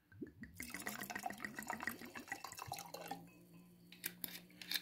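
Dry white wine pours and trickles steadily into a glass with ice, a bubbly, gurgling stream that stops and starts near the end.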